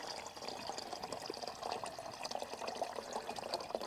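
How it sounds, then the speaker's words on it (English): Water pours into a billy for warming oats, heard as a continuous trickling, splashing flow at moderate close range for several seconds, outdoors by the Murray River, with no talking. "Hang on, I'll just get some water on first."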